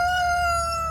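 A farm rooster gives a single sustained crow, close and clear, over a low background hum with no speech.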